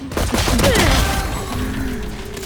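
A dense burst of gunfire in Valorant, rapid overlapping shots in a loud, continuous stream.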